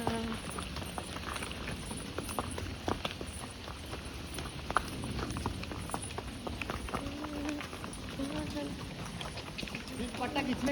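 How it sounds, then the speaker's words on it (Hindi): A horse ridden along a hill-station trail at Matheran, its hooves clip-clopping in an uneven walking rhythm, moderately close, under people talking and calling out nearby. "मैं चला रही हूँ घोड़ा."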